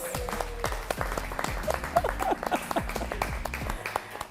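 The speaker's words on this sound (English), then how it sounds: "Let's give everybody a round of applause." Dinner audience applause at a news association awards dinner, steady dense clapping from many hands throughout with sharp individual claps standing out nearby.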